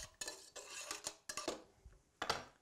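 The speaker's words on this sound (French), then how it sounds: "mélanger le tout." A utensil stirs a tomato juice and pasta mixture in a pan, making several close scraping strokes with sharp metallic clinks in an uneven rhythm, with no voices.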